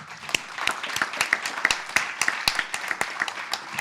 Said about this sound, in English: it's necessary to give a warm applause for warm hospitality